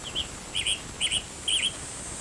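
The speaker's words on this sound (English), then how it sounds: "Western tanager." Western tanager call played as a sound clip in the 2002 Nancy Drew game Ghost Dogs of Moon Lake: four short, burry chirped phrases in a steady rhythm, clear and fairly close against a faint hiss.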